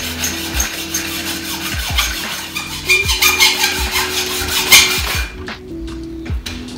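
Dull hand saw cutting through wood in steady back-and-forth strokes, close and loud, rasping rhythmically before stopping near the end.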